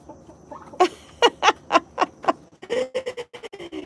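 Chickens cluck and a rooster calls among a flock kept with big, fluffy turkeys, a run of loud, close, irregular clucks in quick bursts, with no talk over them.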